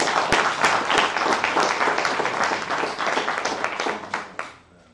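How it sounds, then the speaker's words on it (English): Dense, steady applause from a lecture audience, many hands clapping together at close range before the sound thins and fades out at the end. "acknowledge the faculty who are here with a round of applause for the work that they've been doing in this regard"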